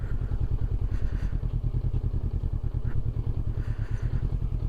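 Honda CB500 Hornet 2024 motorcycle riding at low speed, its engine giving a steady, close, pulsing putter throughout with occasional light clunks and no talk.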